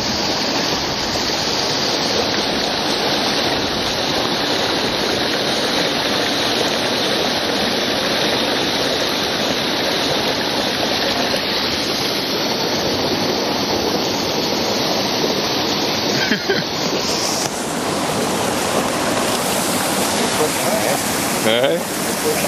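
A fresh outdoor stream flows steadily in a broad, loud rushing wash that holds unchanged throughout, with no clear speech over it.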